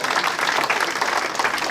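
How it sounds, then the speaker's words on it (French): Dense, steady applause from an audience at a summer votive festival in Marguerittes, honoring the festival youth; continuous crowd clapping throughout, fairly close and loud. "je voudrais qu'on les applaudisse bien fort quand même"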